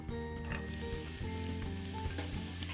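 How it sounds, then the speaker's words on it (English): Grated carrot sautés in olive oil in a pan over medium-high heat, a steady close sizzle with faint scrapes and light knocks of stirring running throughout, no voices. "in the oil I'm going to saute some vegetables"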